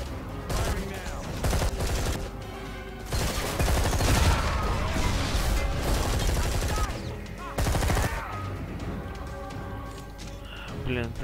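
Bursts of automatic gunfire and single shots crack through Deep Black: Reloaded, an underwater shooter, with a loud crash near the start and a heavier volley later, mixed with game sounds and a voice talking.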